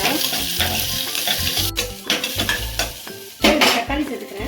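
Curry leaves, onion and garlic sizzle in hot oil in a pan while a metal spoon stirs and scrapes repeatedly, with close, loud clanks against the pan over a steady frying hiss.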